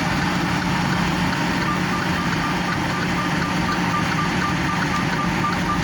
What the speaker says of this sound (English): Looks like you've got an air leak alarm.